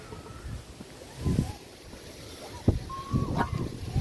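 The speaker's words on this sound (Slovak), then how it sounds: "Fúka vietor." Wind blows over the water at a fishing spot on the first outing of the season, a steady rushing hiss with a few gusts and small knocks nearby.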